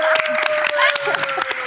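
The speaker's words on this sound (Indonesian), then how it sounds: "Oke, tepuk tangan ya teman-teman." A studio audience claps in a dense burst of applause, close and lively, with a steady tone and some voices mixed in underneath.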